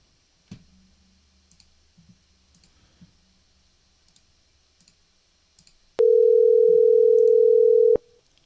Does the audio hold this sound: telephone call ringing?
yes